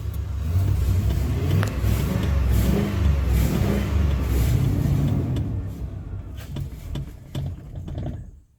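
A fuel-starved 8.1 V8 in a barn-find Chevy 3500 runs rough as it gets a little gas, the engine surging and bogging at close range, then fading toward a sputter near the end.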